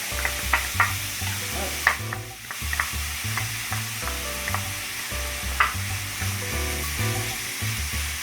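Onion and garlic fry in a pan at the start of a merguez lamb sausage and French lentil dish, with a constant close sizzle and frequent quick stirring clicks over a low steady tonal hum.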